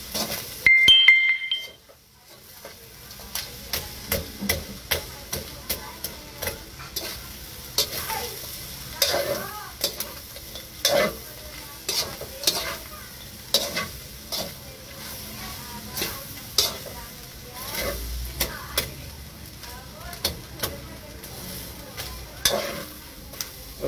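Pork giniling sisig sizzles steadily in a hot pan while a utensil stirs it, scraping and clinking against the metal in repeated strokes over a continuous frying hiss.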